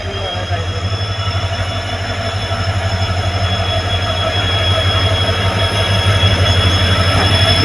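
The Palakkad Express passenger train rolls along its rails on the Nilambur route, a loud, close, steady rumble with a low drone, wheel squeal and faint rhythmic clatter that builds slightly, and voices mix in underneath.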